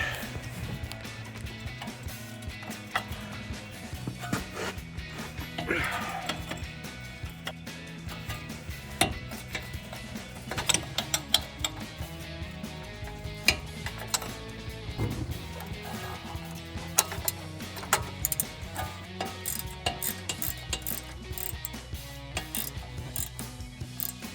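An 18mm wrench or socket ratchets a bolt loose on the front suspension of a 2007-2018 Chevrolet Silverado, giving repeated close metallic clicks and clanks over a steady low background.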